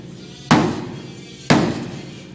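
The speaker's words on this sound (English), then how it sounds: "You want to take one more spot with the big hammer" Two heavy hammer blows land on a sheet metal fender of a K5 Blazer during fitting, each a sharp metallic strike about a second apart with a ringing decay, close and loud over faint background noise.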